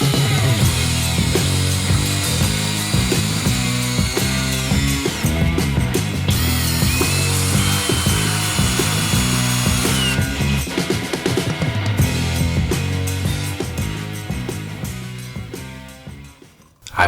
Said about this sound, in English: driving the screws into the pre-drill holes